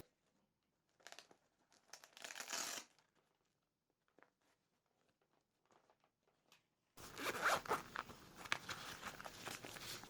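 A zipper on a small bike frame bag for odds and ends, fitted to an electric fat bike, rasps in short quiet pulls, followed by louder rustling and handling close by.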